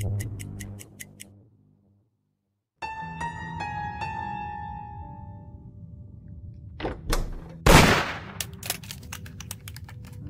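Guns firing in a video game: sharp, rapid clicking shots in quick bursts, then a louder crack and a noisy blast amid scattered tapping impacts, with no talking.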